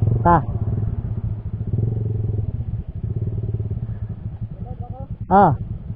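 Honda Raider J115Fi motorcycle with a power pipe, racing ignition coil and carb, idling and revving with a steady low exhaust throb and two sharp rising rev bursts near the start and end.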